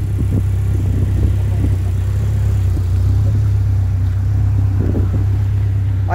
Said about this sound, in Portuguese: Eu vou dar uma voltinha com esse carro aqui pra vocês verem como ficou o carro.